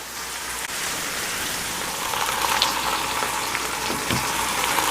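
Low carb keto food frying in a pan as the second side browns, giving a steady, dense sizzle like light rain that runs unbroken throughout, fairly close and even in loudness.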